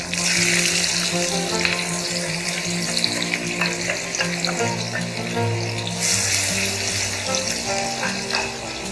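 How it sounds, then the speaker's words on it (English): Cumin seeds splutter and brown in hot oil for a Garhwali pahari dal, giving a continuous close sizzle with scattered pops and a few stirring scrapes, and no talking. "We'll let the cumin splutter and brown a little."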